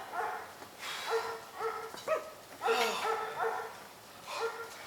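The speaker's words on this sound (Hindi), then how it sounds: "कुत्तों की भौंकने की आवाज आ रही है।" Dogs bark at a distance in a staged Hindi play, a rapid run of sharp barks and yips with a few whimpers, repeated in bursts over a steady background hiss.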